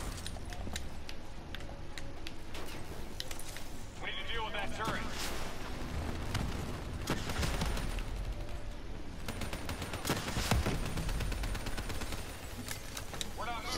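Turret gunfire in the Black Ops 3 video game: repeated bursts and rattling shots over a busy battle din, with a player's voice talking over it.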